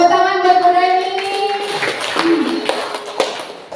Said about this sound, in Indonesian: Tepuk tangan buat Bu Reni.